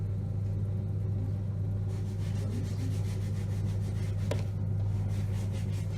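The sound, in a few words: pottery wheel spinning with clay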